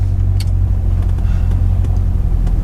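Corvette C6 Z06 engine under way, a loud, steady low rumble from inside the car with light road noise and a few faint ticks, no voices.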